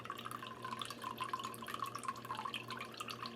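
Soy sauce pouring steadily from a 10 fluid ounce bottle into water, a continuous trickling splash of liquid heard up close and moderately loud, with kitchen background hum and no talking.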